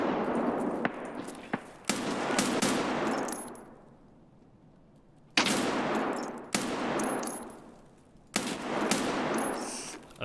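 Video game gunfire in bursts of rapid automatic shots, each loud volley decaying into echoing tails, with about five separate bursts broken by short quiet gaps.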